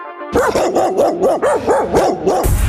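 Guard dogs barking loudly and close, a rapid run of about eight repeated barks in steady rhythm with no voices.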